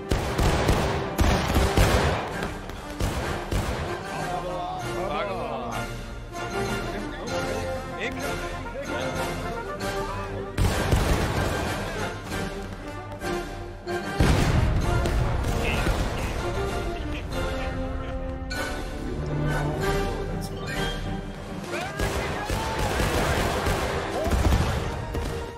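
Musket volley fire in War of Rights, with repeated loud, cracking volleys and scattered shots over about twenty-five seconds, mixed with shouted commands and talk.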